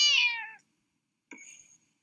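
Pet cat Kissy meows twice, a long clear meow followed after a pause by a shorter, softer one, close and alone.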